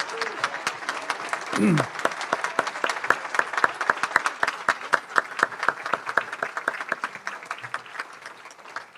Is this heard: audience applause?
yes